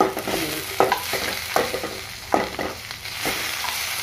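Black gram lentils and cumin seeds sizzle and crackle in a pan, with several scraping stirs at irregular intervals, close and fairly loud.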